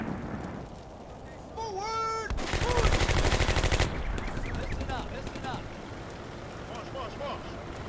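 Gunfire in the World War II game Combat Mission: Beyond Overlord at La Fiere: a dense, rapid burst of shots for about a second and a half, with scattered sharper cracks and tonal sounds around it.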